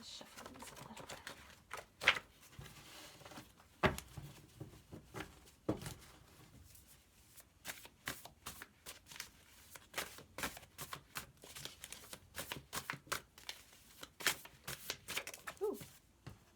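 A tarot deck being shuffled by hand, a long run of quick crisp card riffles and taps, close and fairly quiet, with brief speech at moments.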